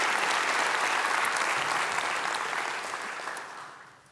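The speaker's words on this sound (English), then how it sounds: "Give yourselves a big round of applause for being here," Applause from a business keynote audience, a thick, steady clapping that gradually fades away toward the end.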